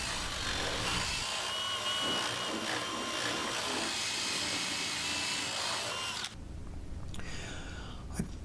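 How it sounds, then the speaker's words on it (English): A power drill with a 3/8 paddle bit bores a hole into wood about six inches deep, a loud steady whirring grind lasting several seconds before cutting off abruptly, with no talk over it. "I'm drilling using the 3/8 paddle bit down."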